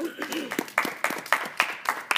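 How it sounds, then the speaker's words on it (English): Audience applause after a high school debate speech: steady clapping from a modest crowd with sharper individual claps standing out, fairly close. "Let's give a round of applause."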